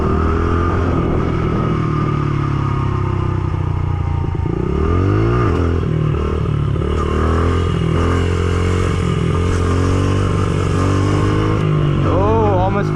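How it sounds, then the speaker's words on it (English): A stunt motorcycle drones loudly and close throughout while being ridden in wheelies, its engine pitch rising and falling with throttle changes and revs near the end. "Let's try one more and then we'll get into some circle wheelies,"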